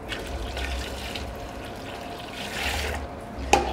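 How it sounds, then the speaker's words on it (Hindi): Water is poured into thick yellow hotel-style gravy in a pot, a steady splashing, gurgling pour that continues for several seconds, ending with a short sharp clink. "अभी ग्रेवी थोड़ी गाढ़ी है तो मैं इसमें पानी और डालूंगा।"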